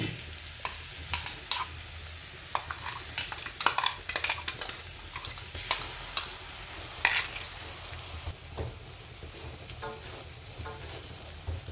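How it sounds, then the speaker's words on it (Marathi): Ground green chili paste frying in hot peanut oil, a constant close sizzle with clustered metal spoon clinks and stirring scrapes against the pan, no talking. "आता आपण हिरवी मिरचीचं वाटण केलेलं तेलामध्ये टाकू"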